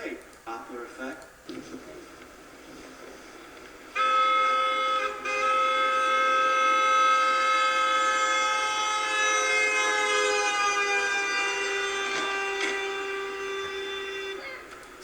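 A siren or horn-like tone swells in loudly, holds, then gradually fades and drops in pitch as it passes, after some faint background noise.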